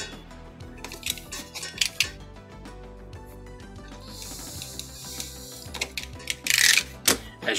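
A sharp, larger knife cuts EVA foam at a low, slow angle, producing close scraping and slicing sounds with small clicks and a few louder rasping bursts near the end.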